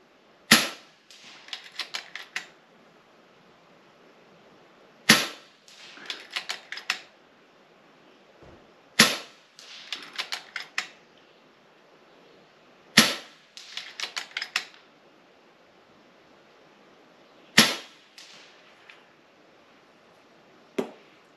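An FX Impact M3 air rifle firing slugs with a heavy liner: five sharp, loud cracks spaced several seconds apart, each followed by a quick rattle of metallic clicks and clatter as the action is worked.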